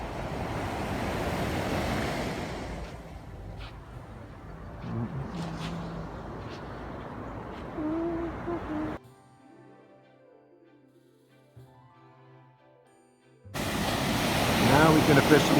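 Surf washing onto the beach at Asbury Park, New Jersey at sunrise, a steady broadband roar with wind buffeting, dropping to a quiet stretch midway before the waves surge back loudly.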